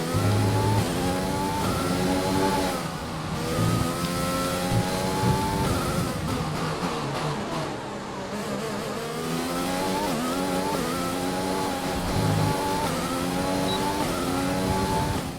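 A race car engine in the F1 2020 video game drones and revs steadily through a lap, its pitch rising and falling with upshifts and downshifts and a brief dip mid-lap, loud and continuous with no talk.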